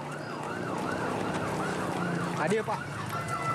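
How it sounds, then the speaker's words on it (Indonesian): Dozens of ambulances race students to Cililin Hospital in West Bandung, their sirens wailing in repeated rising and falling sweeps over street noise, loud and close, with a brief burst of other noise partway through. "puluhan ambulans berkejaran dengan waktu membawa para siswa ke Rumah Sakit Cililin di Bandung Barat"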